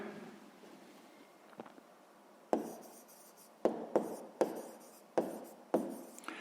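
A pen scratches across paper during a sixth-grade math exercise, in a series of quiet, separate strokes: a few faint ones at first, then a run of sharper, closer scribbles in an otherwise hushed room.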